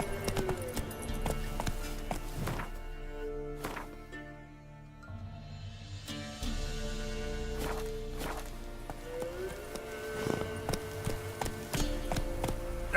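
Hooves of Roach the horse clop in a steady galloping rhythm in The Witcher 3, moderately loud over a sustained tonal game soundtrack, briefly easing off midway before resuming.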